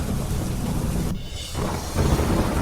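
Heavy monsoon rain pours in a dense, hissing wash, with a deep thunder rumble underneath and a brief dip before the downpour swells again.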